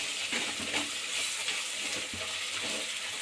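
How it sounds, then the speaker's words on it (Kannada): Chili powder, garam masala and turmeric frying in oil for mint rice, a steady close sizzle with soft scraping stirs of a spoon through the pan. "ಹಾಕಿ ನೀಟಾಗಿ ಹಸಿ ಸ್ಮೆಲ್ ಹೋಗೋವರೆಗೂ ಹುರ್ಕೊಳ್ಳಿ"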